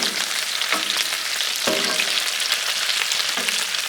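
Bacon sizzles steadily on a Blackstone flat-top griddle in a dense, bright crackle, with a few soft scraping clicks as strips are moved around, and no voices.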